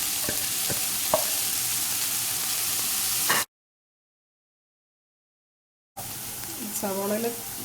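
Two large, finely chopped onions sizzle steadily in a hot pan for beef cutlets, with stirring noises. The frying cuts to total silence partway through, then resumes with a brief voice near the end.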